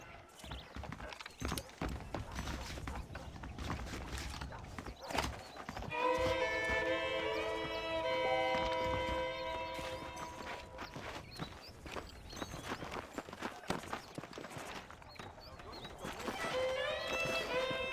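Horse hooves clip-clop steadily in Red Dead Redemption 2, a walking gait heard under a game voice speaking, with music swelling in partway through.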